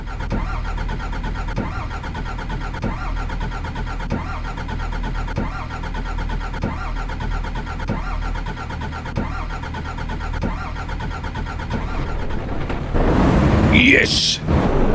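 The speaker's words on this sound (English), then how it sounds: "I need to get my engine started" A car engine in the driving game Real Operations V13 churns and cranks in a steady repeating rhythm, then a louder burst of engine noise near the end, with a voice talking over it.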